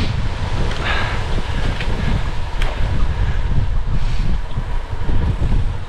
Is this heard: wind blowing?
yes